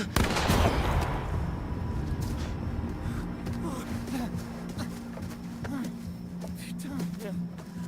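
A gunshot rings out in the horror video game The Quarry, a loud sharp blast at the start followed by a long decaying rumble, with tense voices and game ambience continuing underneath.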